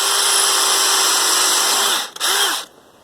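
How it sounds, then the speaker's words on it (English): A power drill pre-drills screw holes along the top edge of a piece for a tiny house build in the woods, running loud and steady for about two seconds, then a short pause, a brief second burst and a stop. "But I prefer to pre-drill my pieces."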